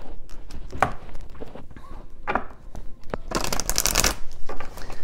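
Oracle cards are shuffled by hand in a steady run of rustling, riffling bursts, close and continuous with no talk over it.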